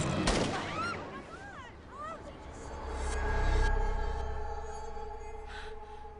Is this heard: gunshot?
yes